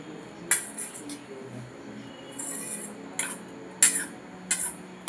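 Potatoes and chickpeas mixed together in a bowl with a spoon, sharp clinks and scrapes of metal against the dish coming in irregular bursts, close and fairly quiet.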